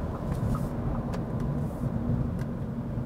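A 2023 Audi A3 driving and shifting gears, a steady low engine and road drone heard from inside the cabin, fairly loud and even for a few seconds, with no talking.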